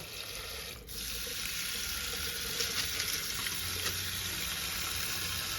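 Japanese sticky rice is washed under running water, a steady close rush and splash of tap water over the grains that holds for the whole stretch with one brief dip early on and no speech.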